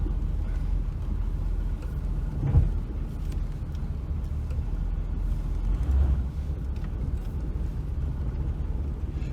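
A 1979 Camaro out on a drive gives a low, steady engine rumble with road noise, with a couple of brief louder thumps along the way and no talking over it.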